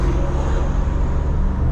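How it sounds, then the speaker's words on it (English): A BMW F90 M5 Competition engine downshifts under throttle, heard from inside the car as a loud, steady low drone with road noise over a brief stretch. "if I get on the gas a little bit, it'll just downshift it again"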